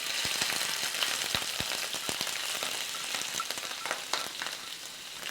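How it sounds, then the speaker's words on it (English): Mushrooms frying in hot olive oil for a vegetable paella, a continuous close crackling sizzle with scattered sharp pops throughout. "And when it's hot, you add the mushrooms."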